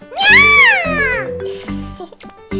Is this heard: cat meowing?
yes